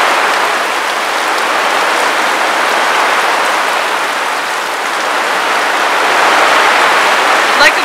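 Heavy storm rain pours steadily as a dense, even wash of noise that holds at a constant loud level for the whole stretch, with no pauses or breaks.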